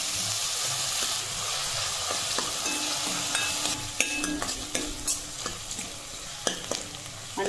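Onion frying in a pan with whole spices for a kaju masala curry, a steady close sizzle with scattered clinks and stirring scrapes, no voices.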